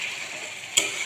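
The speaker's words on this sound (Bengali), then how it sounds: "ভালো করে কষিয়ে নিচ্ছি।" Spices sautéing in a frying pan, a soft steady sizzle with one quick scrape of stirring near the end.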